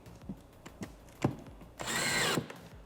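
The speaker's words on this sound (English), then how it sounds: "Then I'm gonna grab my drill" A power drill briefly whirs as it drives a screw into a box during assembly, one short burst after a few light knocks and handling clicks, fairly quiet and close.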